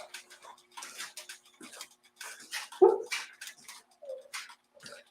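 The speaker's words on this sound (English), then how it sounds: "my dog snoring in the background" A sleeping dog makes soft snuffling, snoring and whimpering noises close by, in short irregular bursts with brief pauses between them.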